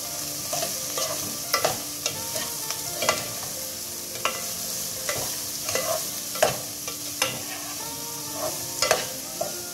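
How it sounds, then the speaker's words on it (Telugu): Shredded cabbage being stir-fried with softened onions in a pan for an Andhra-style spicy cabbage dish, with a steady sizzle broken by repeated sharp scraping stirs of the spoon, close and without talk. "దీంట్లోకి మనం ఈ తరుక్కున్న క్యాబేజీని యాడ్ చేస్తాం. దీన్ని ఫుల్గా కలిపి"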